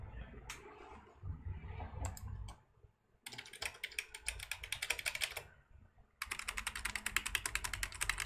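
Fast clicky typing on a computer keyboard, hooked to a Dell Alienware X51 R2 desktop, comes in two dense close-up bursts of rapid keystrokes separated by quieter handling noise.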